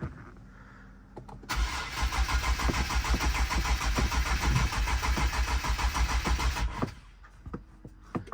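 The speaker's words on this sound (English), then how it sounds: "this car never wants to start." Close, loud cranking from a hard-starting Redeye Jailbreak car: the starter churns in a regular pulsing beat for around five seconds, then cuts off abruptly without the engine firing, leaving quiet.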